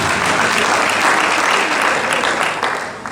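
Applause from part of a lecture hall audience, a steady dense wash of clapping that runs the whole time and fades slightly near the end, with no voices over it.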